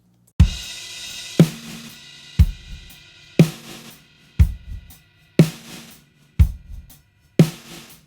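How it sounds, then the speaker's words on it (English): Drum loop slowed down and granulated, eight evenly spaced heavy hits about a second apart, each a deep punchy thump with a smeared, stretched noisy tail decaying before the next; loud and alone. "So I'm going to grab the sample and I'm going to slow it down."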